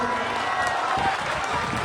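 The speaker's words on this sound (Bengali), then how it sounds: "হাততালি হয়ে যাক" A crowd claps at a Holi spring festival stage event, steady applause that carries on under a voice over a loudspeaker.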